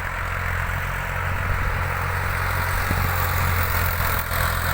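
An Al-Ghazi tractor's engine drones continuously and heavily as it drags a plough under strong load in a field, a steady close rumble with no talk over it.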